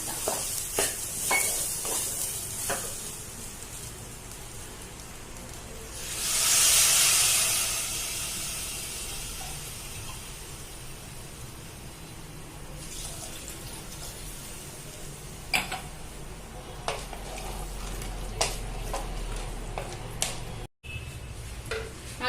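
Water poured into prawn rice masala in a pressure cooker gives a bright sizzling hiss that swells for a few seconds, then settles into a low bubbling simmer with scattered clinks of stirring.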